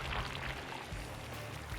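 A thick non-Newtonian liquid pours in a heavy, continuous gush into a large trough, loud and close, with no break through the clip and no talk over it.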